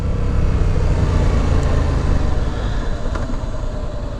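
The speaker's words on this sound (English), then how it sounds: "Every time I slow down on this thing, it sounds like the engine shutting off." A motorcycle engine slowing down steadily, recorded up close on a helmet-mounted GoPro with an external mic, a continuous rumbling drone under road and wind noise with no talking.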